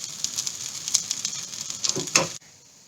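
Fried rice sizzles and crackles steadily in a hot pan, with a few sharper scraping stir strokes near the end before the sound cuts off abruptly.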